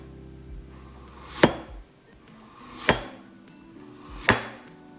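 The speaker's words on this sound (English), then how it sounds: "And then you cut the potato into large slices." A knife cuts through a raw potato on a cutting board, making large slices. Three crisp, evenly spaced chops land about one and a half seconds apart, close and clear with no talk.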